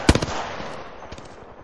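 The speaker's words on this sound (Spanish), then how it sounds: "Me disparan" Gunfire in Apex Legends: a quick, loud burst of rapid shots cracks out up front, followed by a fainter volley a moment later over a faint background hum.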